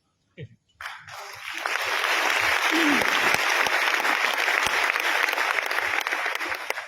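After a brief pause and a few scattered sounds, audience applause swells up and holds steady, a broad wash of many hands clapping that stays loud to the end, with a faint voice early on.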